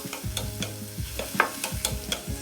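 Vegetables, including alugbati, are stir-fried for fried rice in a hot pan, with rhythmic scraping strokes of a spatula over a bright steady sizzle.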